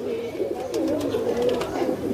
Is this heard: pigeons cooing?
yes